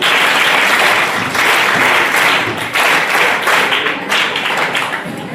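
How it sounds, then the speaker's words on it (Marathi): Loud, dense applause from an audience at an educational talk, sustained for several seconds in rolling waves before easing slightly toward the end. "एकदा सगळ्यांसाठी जोरदार टाळ्या वाजवा"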